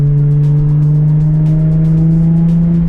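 A loud, steady engine idle close by from a Nissan 350Z, a deep continuous rumble with a faint rise in pitch toward the end.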